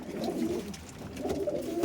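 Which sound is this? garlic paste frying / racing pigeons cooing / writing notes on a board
racing pigeons cooing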